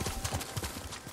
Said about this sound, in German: Da ist ein Samurai-Pferd.